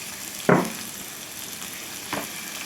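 Bell pepper and tomato frying in a pan for a grill sandwich filling, a soft, steady sizzle broken by two short, sharp scraping stirs near the start and later.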